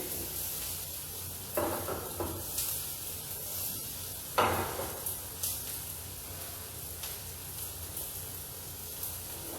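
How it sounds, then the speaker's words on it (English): Food sautés in a pan in a Kashmiri home kitchen, a soft steady sizzle with occasional scrapes and clinks of a utensil against the pan, close but quiet. "Saute it nicely."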